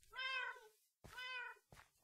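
Near, clear cat meows in Minecraft's shape shifter mod, two drawn-out calls in a row followed by a brief third chirp, with nothing else audible.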